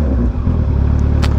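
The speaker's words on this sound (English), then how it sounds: "That damn quick shifter." Kawasaki ZX14R motorcycle with a quick shifter, loud close engine note with a brief dip as it clicks through a gear change, then a steady pulsing drive.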